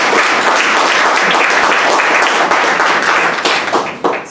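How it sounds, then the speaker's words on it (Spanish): Steady, dense applause from an assembled crowd at a church synod gathering, welcoming an apostolic nuncio; continuous broadband clapping that holds at full level, then thins and tapers toward the end. "Un aplauso para él."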